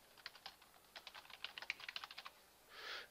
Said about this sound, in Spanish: Y luego pulsa intro.